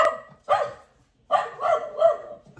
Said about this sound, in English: So now there's barking dogs playing in the background.